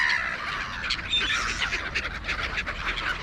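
Gulls calling near a car dealership lot, a flock of harsh, overlapping squawks and cries repeating rapidly, fairly close and loud over outdoor background noise.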